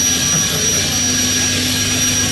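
A 1950s GM Firebird III gas turbine concept car running, a loud, steady jet-like turbine roar with a high whine held continuously close by.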